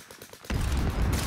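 Gunfire erupts suddenly in a first-person shooter game, a dense, loud burst of rapid shots and rattling that continues without pause after a quieter opening.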